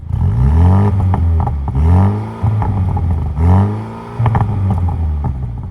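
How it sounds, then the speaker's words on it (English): A 2023 Mini Countryman JCW with a valved exhaust and 8-speed automatic revs repeatedly in loud surges, the exhaust note rising and falling about three times, sounding close and throaty. "Oh, I do hear the exhaust, actually. It does have a valved exhaust."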